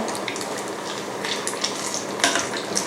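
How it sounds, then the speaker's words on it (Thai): Banana pieces wrapped in spring roll pastry deep-fry in hot oil, giving a steady, close, crackling sizzle across the whole stretch, with a few sharper pops and bursts standing out near the end. "เราจะทอดแค่พอให้ตัวเปลือกนอกเนี่ยกรอบแผ่นปอเปี๊ยะกรอบแล้วก็สุกนะคะ"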